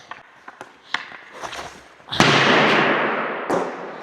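A hockey stick strikes a puck in a single sharp crack followed by a lingering rink echo. Lighter taps and skate or stick contacts come before it.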